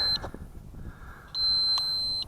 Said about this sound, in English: press down twice until I hear 3 beeps